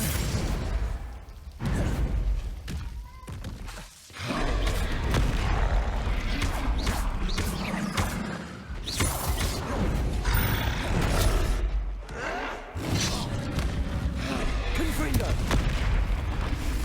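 Fire-blast spells go off in Hogwarts Legacy, booming and whooshing repeatedly amid dense game combat effects and music, with voices talking over the action.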